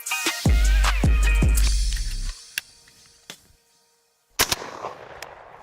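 Shotgun blasts from skeet shooting at a farm in a video game: three loud, close shots in quick succession, then sharper scattered cracks and a late report, with no talking.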